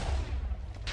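Redstone-triggered TNT cannon firing in Minecraft: a dense, rumbling low boom sustained across the second, with a brighter burst near the end.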